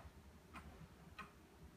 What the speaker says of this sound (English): this magnificent, heavily carved Black Forest cuckoo clock